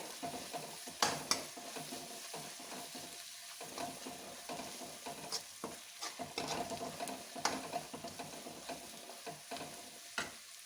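Spices and tomatoes being stirred in a pan for Punjabi dhaba-style dal makhani, a steady sizzle of frying with repeated scraping stir strokes, close and moderately loud with no talking.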